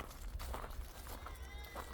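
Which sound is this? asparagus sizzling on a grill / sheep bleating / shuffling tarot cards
sheep bleating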